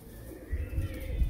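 A male pigeon gives a low, soft coo, a brief murmuring call heard close and faint.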